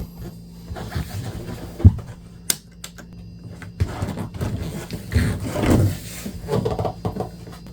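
A drawer pulled out of a Winnebago View RV cabinet, a series of wooden clunks, scrapes and rattles with a sharp knock, close by and irregular.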